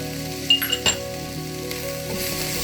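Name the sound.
crushed chili and garlic masala frying in pan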